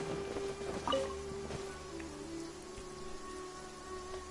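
Rainfall in Genshin Impact forms a constant soft hiss with faint scattered drops beneath quiet sustained musical tones, even and unbroken from start to finish.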